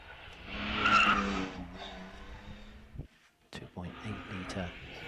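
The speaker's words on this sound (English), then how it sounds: "It's the BMW 328i Sport over Bunny's Leap." A BMW 328i Sport climbing the Wiscombe Park hillclimb course over Bunny's Leap, its engine and tyres roaring loud and close before fading, then returning briefly, while a commentator talks throughout.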